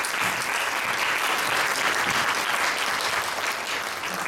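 A conference crowd at Zilele Biz gives loud, sustained applause to welcome a speaker to the stage, a thick, continuous roar of clapping that eases slightly toward the end.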